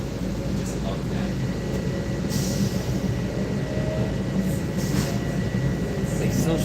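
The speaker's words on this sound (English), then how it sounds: "Why does this train move so slow?" A train rolling slowly along the rails gives a steady low rumble with a constant mechanical hum throughout, and faint voices surface now and then beneath it.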